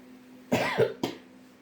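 Two short, sharp coughs, the first a bit longer and harsher, the second brief, close by against a quiet background.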